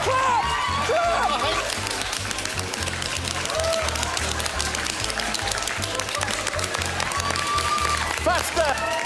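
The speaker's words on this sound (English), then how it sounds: "Keep clapping." People clap in a busy studio setting during a timed game-show task, with shouts and excited voices over the applause and music-like tones throughout.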